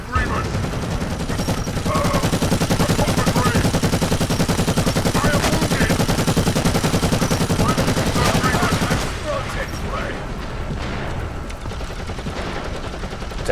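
A heavy bolter in Warhammer 40,000 Eternal Crusade fires in a sustained, dense automatic stream, loud and continuous for about nine seconds before easing into quieter background battle noise.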